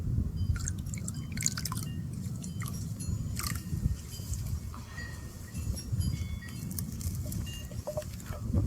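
Water poured out as an offering at a religious observance, dripping and trickling in irregular, close, fairly quiet splashes and drops over a faint low rumble, with no voices.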